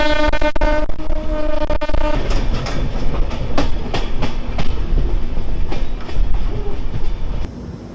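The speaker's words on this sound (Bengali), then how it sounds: "আমাদের ট্রেনটা এখন মোটামুটি খুব আস্তে ধীরে চলতেছে" Train rolling slowly along tracks over a water-flanked line near Mirzapur, Uttar Pradesh, with steady rumble, rhythmic clicking wheel joints and a brief horn-like tone early on, close and continuous throughout.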